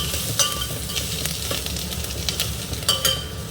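Onions sautéing in a pan for a Tamil eggplant and peanut kuzhambu, a steady close sizzle with a few spoon scrapes and clinks against the pan.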